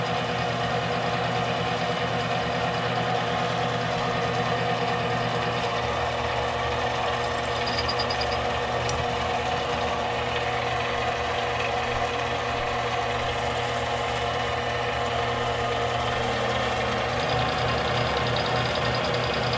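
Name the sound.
machining an interrupted cut on soft jaws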